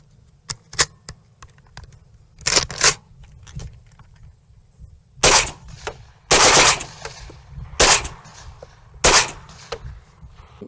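A WW2 German MP44 Sturmgewehr assault rifle, chambered in 8mm short, fires in sharp, loud shots and short rapid bursts, including a longer automatic string, separated by quiet pauses, with no talking.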